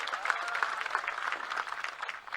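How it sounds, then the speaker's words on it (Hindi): A crowd at a political rally in Kamptee, Maharashtra claps in a brief burst of dense, moderately loud applause. "जोरदार ताली बजाओ"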